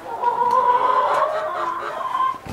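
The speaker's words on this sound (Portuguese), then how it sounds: "Olha que galinheiro bem arrumadinho" Hens clucking and calling inside a tidy backyard henhouse of laying hens, a steady close chorus of overlapping clucks and warbles with no talk.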